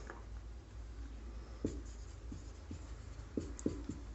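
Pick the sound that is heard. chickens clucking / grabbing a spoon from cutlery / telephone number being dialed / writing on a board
writing on a board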